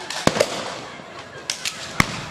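Firecrackers go off during a street brawl between two neighborhood groups in Makassar, several sharp cracking bangs at irregular intervals over a noisy outdoor background.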